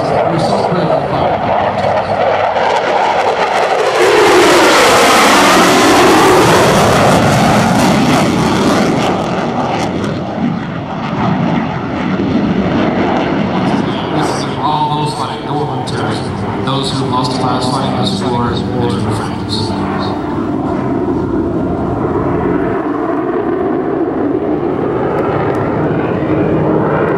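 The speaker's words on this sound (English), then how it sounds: "Major Clifford has lowered his landing gear as he approaches the runway at an accelerated of about 150 miles per hour" An F-16 Fighting Falcon at a Blue Angels homecoming air show demo roars loudly past with a swelling, Doppler-shifting engine sound, then a lower sustained jet rumble while an announcer talks over it.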